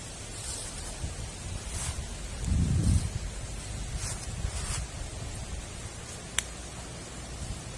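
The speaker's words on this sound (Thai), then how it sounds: "ลมจริง ๆ เลยครับ" Strong wind sweeping through a forest at night, a steady rushing roar with a brief stronger gust and faint rustling, some scattered clicks, no talking.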